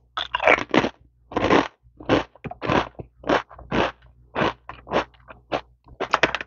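Truffle potato chips crunch up close in a quiet setting, a rapid series of crisp, distinct bites and crackles with brief gaps, without talk.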